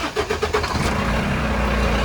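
Tractor-trailer truck engine cranking over in a quick stuttering burst and then catching into a steady loud idle rumble.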